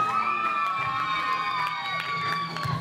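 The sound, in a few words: audience squealing at a dance event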